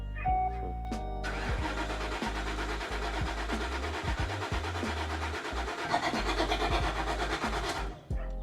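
A detailing van's engine cranks steadily for several seconds, hesitating without catching, loud and close, then cuts off abruptly near the end.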